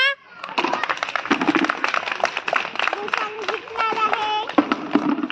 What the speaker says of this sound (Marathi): तुम्ही टाळ्या वाजवा